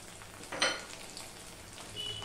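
Ground cumin, turmeric and coriander fry in a pan for a katla fish curry with a soft, continuous sizzle. One brief louder hiss flares early, as if from a splash of water.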